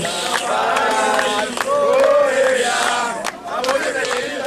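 Thousands of football fans fill the streets of São Luís celebrating their team's qualification, a dense loud crowd of cheering and shouting voices rising and falling without pause.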